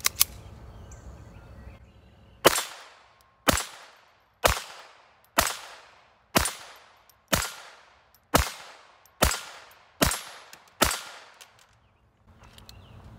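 Walther P22 pistol fired unsuppressed outdoors: ten sharp, loud cracks spaced about a second apart, each with a short ringing decay, after a quiet start.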